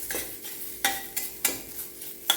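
Ground coconut stirred continuously as it roasts over low heat in a pan, with sharp spatula scrapes every half second or so against a soft dry sizzle, close and alone.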